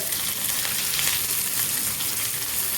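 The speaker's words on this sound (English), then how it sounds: "Let us put some curry leaves and" Curry leaves sizzle and spit in hot oil while tempering coconut chutney, a steady close frying hiss with no pauses and no talk.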